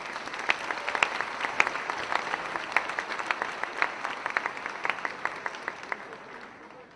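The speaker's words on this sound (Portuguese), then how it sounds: "Aplauda Jesus, queridos." A church congregation at a Brazilian evangelical Christian military congress applauds in worship. Quiet, sustained clapping with many crisp individual claps standing out is heard from across the room before it tapers off at the end.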